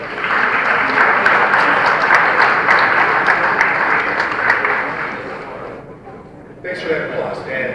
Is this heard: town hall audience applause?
yes